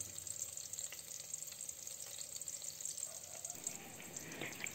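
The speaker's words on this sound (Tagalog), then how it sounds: "Naglagay na rin tayo ng hiniwang sibuyas. Lutuin lang natin ang sibuyas." Sliced onion and garlic sauté in a pan, giving a steady, close sizzle with faint stirring scrapes and a slight rise in crackle toward the end.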